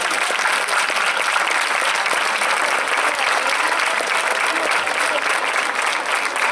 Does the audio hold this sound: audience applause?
yes